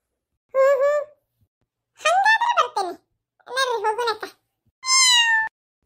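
A cat meows four times in short separate calls, each clear and close with near-silent pauses between, the last call rising and held a little longer.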